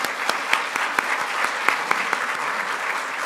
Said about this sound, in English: I'll give them a round of applause.